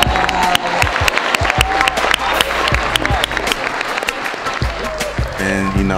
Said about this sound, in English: If we could all stand and give him a round of applause.